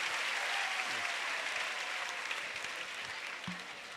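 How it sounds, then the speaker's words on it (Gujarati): Applause from a student audience at a counselling seminar, a fairly faint, steady patter of many hands clapping that fades slightly toward the end, with no talk over it. "એકવાર જોરદાર તાળીઓ હોવી જોઈએ"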